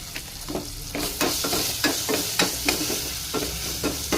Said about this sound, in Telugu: ఇప్పుడు వేసుకుందాం అల్లం ఎల్లిగడ్డ పొడి. కొద్దిగా వేసుకుంటాను,